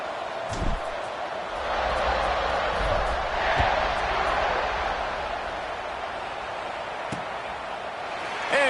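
A large football stadium crowd at a Razorbacks game against Kentucky gives a sustained, distant roar around the kickoff, with a few thuds and a commentator talking over it.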